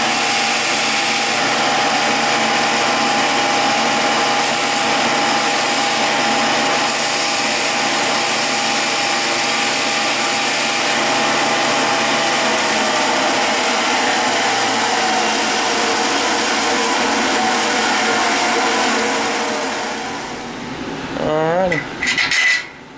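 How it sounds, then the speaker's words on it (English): A knife grinder in a workshop smooths down the end of a metal part, a loud continuous abrasive rasp and whine running steadily for about twenty seconds before winding down near the end. "What he just did on there on the knife grinder was get that end smoothed down on there"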